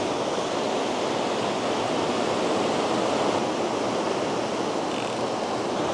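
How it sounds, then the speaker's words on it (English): Violent water churns and roars in the outflow below a dam, a dense, unbroken rushing wash that stays loud and constant from start to end, with no voices. "That is some violent water."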